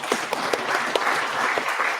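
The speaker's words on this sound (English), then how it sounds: "Let's give all ourselves a good round of applause" An audience applauds at the close of a corporate sustainability seminar in Kenya, giving a steady round of clapping with a few sharper claps near the front and a soft room tone underneath.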